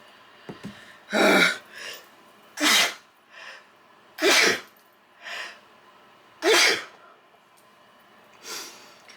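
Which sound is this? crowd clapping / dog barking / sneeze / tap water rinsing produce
sneeze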